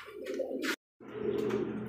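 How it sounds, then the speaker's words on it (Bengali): A pair of colored Rajgolla pigeons coo on a farm in low, throaty murmurs close by, one phrase cut off by a brief silence before the cooing resumes. "এক জোড়া রাজগোল্লা কবুতর, কালারিং রাজগোল্লা।"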